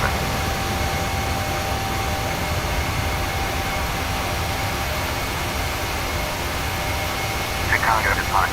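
A PMDG Boeing 737 jet climbs out in Microsoft Flight Simulator with a steady, loud engine roar and broadband rush throughout. A faint tonal blip comes near the end.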